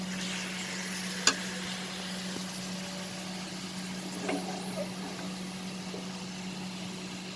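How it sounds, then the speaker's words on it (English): Ginger garlic paste sautéing in a pan with tomatoes for stuffed pointed gourd gives a steady, moderate sizzle under a low hum, broken by a couple of faint clicks. "Add the ginger garlic paste. And now saute everything together."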